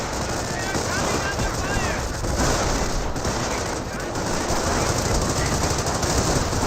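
A .30 cal machine gun firing in the strategy game Company of Heroes: dense, continuous rattling fire throughout, mixed with wider battlefield noise and a talking commentator.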